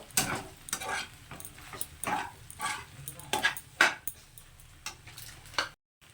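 A spoon stirs salt into sambar pasta cooking in a pan, making soft scraping strokes and light taps over a quiet sizzle, uneven in rhythm and fairly faint.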